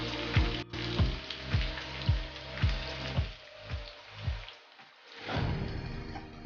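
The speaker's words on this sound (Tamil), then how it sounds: "பூண்டு நல்லா கொஞ்சம் வதங்கணுங்க" Garlic and curry leaves fry in oil for a tomato pickle, giving a steady sizzle under a regular series of low knocks from stirring in the pan, roughly two per second, easing off near the end.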